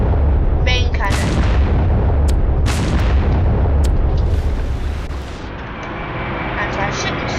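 A warship's main cannon fires in a naval video game, heavy booming blasts with long rumbling tails layered over a loud continuous roar of battle and engine noise.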